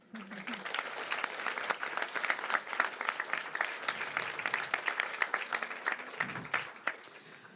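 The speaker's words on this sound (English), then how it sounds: "I think that deserves just a slight, small applause" Audience at a heritage intervention award ceremony giving a round of applause, a fairly faint, steady patter of many hands clapping throughout with no voices over it.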